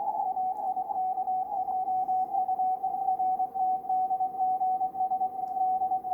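A Morse telegraphy radio signal passes through a digital filter, leaving a steady, clean single tone keyed in rapid dits and dahs above a faint, low hiss.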